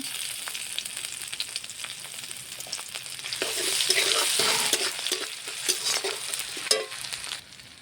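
Whole cumin seeds, a dried red chilli, a bay leaf and ginger paste sizzle in hot oil while they are stirred in a pan for a cabbage and crab dish. The frying crackles steadily and loudly, and the scrape of a spoon rises through the middle of it.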